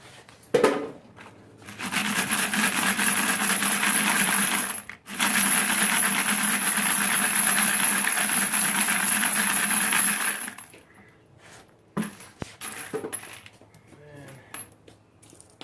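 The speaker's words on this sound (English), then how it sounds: "So I'm just going to dump it into this colander here. Strain all of our walnut media out of it." Brass .223 rifle cases rattle and jingle densely in a metal colander as walnut cleaning media is shaken out, in two long bursts with a brief pause between and scattered clinks afterward.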